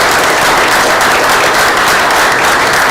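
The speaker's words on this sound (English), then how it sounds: "she deserves a round of applause for that, Haven" A room at a county commissioners court meeting breaks into loud, sustained applause for a young runner named Haven, dense clapping that fills the whole moment without pause.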